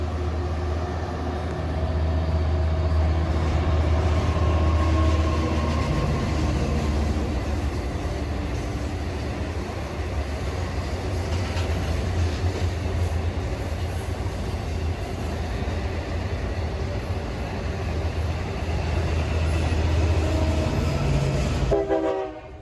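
A Long Island Rail Road diesel Cannonball train rolls along a viaduct near the Montauk branch split before St. Albans Station, a loud steady rumble of engine and wheels sustained throughout, with a brief horn-like tone near the end.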